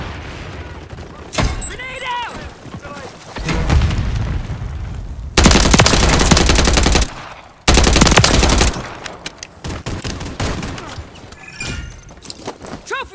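Gunfire and a grenade blast in the video game Modern Warfare 3, with a broad burst of explosions and rattling shots, two loud sustained blasts in the middle and scattered firing around them, under game radio chatter.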